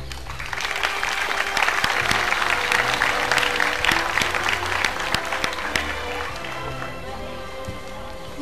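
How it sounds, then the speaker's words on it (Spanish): A school civic-ceremony audience gives warm applause to a student from Escuela San Martín, a loud, dense burst of many hands clapping that swells and then gradually fades. "Lo recibimos con un caloroso aplauso."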